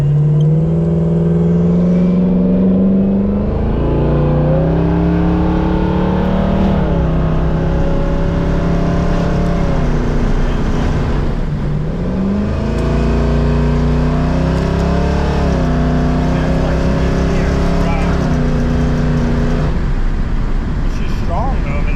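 A 1951 Henry J rat rod's engine pulls strongly while driving, its steady note rising and falling through several revving swells over about twenty seconds; it sounds loud and close throughout, with people talking over it.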